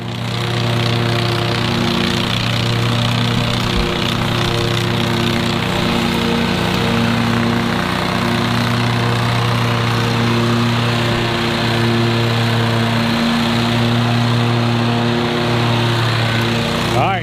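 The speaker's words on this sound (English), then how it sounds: "Zach, he's throwing me off with his mowing." A lawn mower engine drones continuously and loudly while mowing a customer's yard, its pitch wavering slightly as it moves, steady throughout with no pauses.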